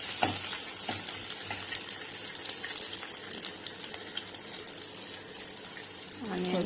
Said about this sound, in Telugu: జీలకర్ర చిట్పట్లాడుతుందండి.